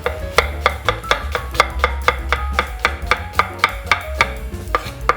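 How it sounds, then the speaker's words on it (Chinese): A knife slicing an onion into strips on a cutting board: a steady run of sharp, evenly spaced chopping knocks, close and loud, over a low background hum, with no speech. "把洋葱切丝，要切逆纹还是要切顺纹？"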